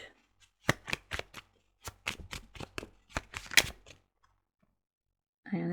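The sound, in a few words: shuffling druid oracle cards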